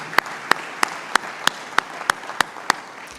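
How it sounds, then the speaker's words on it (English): Ten evenly spaced sharp claps ring out in a slow, steady rhythm, the kind of isolated hand claps heard from a small audience at a week-long UN event after a call to thank the hosts. "Would you please give a round of applause as we thank them for hosting us."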